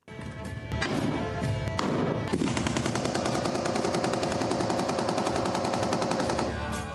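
Rapid bursts of gunfire, a few single shots followed by sustained automatic fire, loud and continuous for several seconds.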